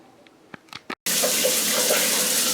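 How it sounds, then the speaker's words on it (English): Water from a seven-year-old home water heater suddenly rushes out after brief small knocks, then runs steady and loud as a continuous gushing flow until the end. "I'm rinsing out the water heater."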